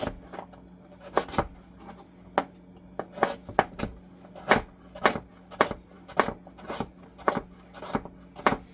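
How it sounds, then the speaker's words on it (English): Carrots being chopped for soup with a knife on a cutting board, a steady series of sharp, close taps repeating roughly every half second with no talk. "get them sliced up, added to the soup"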